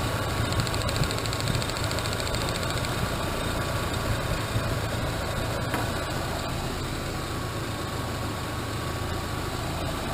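Car engine running smoothly and steadily after an ignition coil repair that cured a misfire, a continuous close idle hum throughout with no voices.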